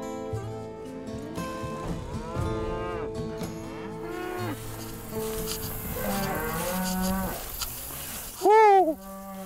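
Cattle in a pasture during mob grazing, several loud drawn-out moos close by, overlapping and repeated throughout, with one strong low call near the end.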